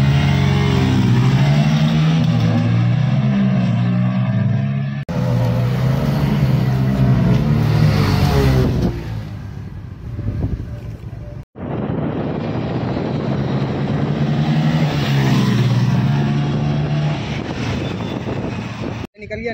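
Bajaj Pulsar N160 motorcycles, BS6 and BS7 versions, accelerate in an outdoor drag race, with loud, rising engine drone and gear-shift steps, heavy wind buffeting on the microphone, and brief dropouts between runs.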